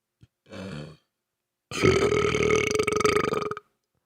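A loud, long, deep human burp rumbles for nearly two seconds after a short vocal grunt, close and alone.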